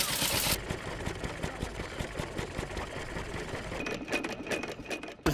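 A steam engine at a rally runs under governor control, a rapid, even mechanical chuffing and clattering pulse, close and moderately loud, with a brief hiss at the start.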